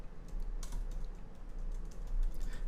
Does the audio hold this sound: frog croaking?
no